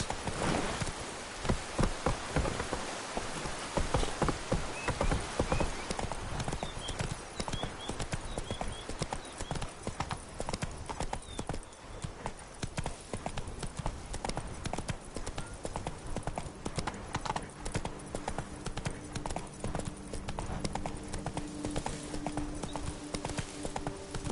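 Hooves of the horse Roach in The Witcher 3 clip-clop in a steady, fast galloping rhythm throughout, close and clear over faint ambient game background.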